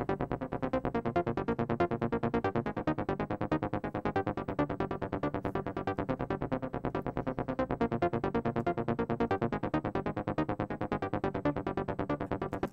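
A fast synth arpeggio pulses in a rapid, even stream of notes layered over a dense chorus mix, steady and full throughout with no pauses.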